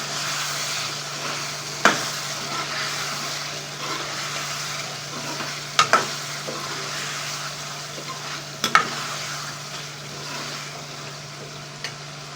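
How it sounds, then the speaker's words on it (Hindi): Chicken and chickpeas fry in a pot with a steady soft sizzle, broken by a few sharp scrapes and clinks as a spoon stirs them at irregular moments, with no voices. "छोले और चिकन की मिक्स डालें, उनकी अच्छी तरह भुनाई हो जाए चिकन की।"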